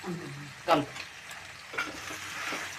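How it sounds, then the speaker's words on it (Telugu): Chicken curry with coriander powder stirred in a frying pan, with soft sizzling throughout and a couple of distinct scraping stirs of the spoon, close by and fairly quiet. "ధనియాల పొడి వేసింది చక్కగా కలిపేస్తుంది"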